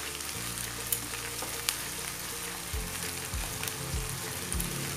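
Tuna and ham carbonara with powdered milk sizzles in a pan while being stirred. A steady close frying hiss runs throughout, with low scraping knocks of the utensil against the pan growing more frequent toward the end.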